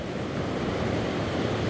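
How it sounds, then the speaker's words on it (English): Waves breaking close to shore at a perch fishing spot, a loud continuous wash of surf with wind buffeting the microphone, no voices. "the waves are breaking decently close to shore where these things feed"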